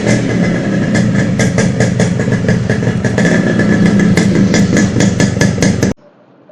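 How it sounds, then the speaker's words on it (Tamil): A two-stroke engine's exhaust note runs loud and close, with a steady rapid buzzing, crackling idle that holds for about six seconds before cutting off abruptly, with no speech over it. "ஸோ டூ ஸ்ட்ரோக்கோட எக்ஸாஸ்ட் நோட் எல்லாருக்குமே தெரியும் எப்படி இருக்கும்னு"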